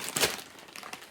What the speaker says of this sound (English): Sorry again for the crinkling